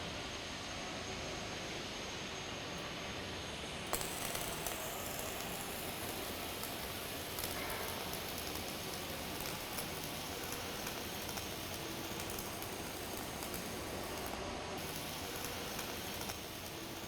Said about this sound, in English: Perfect fillet weld.